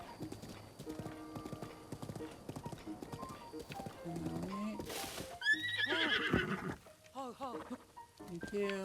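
Horse hooves clip-clop steadily in the game Breath of the Wild, followed by loud whinnies and snorts near the end, with a brief spoken word mixed in over the rhythmic gait.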